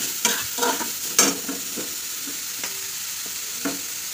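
Carrot halwa cooks slowly in ghee while being stirred, with a quiet frying hiss under repeated soft spoon taps and scrapes that fade toward the end.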